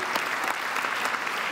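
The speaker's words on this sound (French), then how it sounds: "On peut applaudir pour les lauréats ce soir" Audience applause at the 2017 Francophone Cinema Trophies award ceremony, honoring the winners: a steady, dense wash of clapping from a sizeable crowd, even in level throughout, with no voices standing out.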